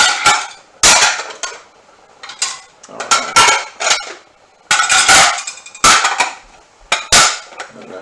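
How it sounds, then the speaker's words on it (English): Dishes being put away in a kitchen: a series of sharp clinks and clatters of plates and cutlery in irregular bursts, loud and close, with a brief spoken remark. "You get to see me put the dishes away."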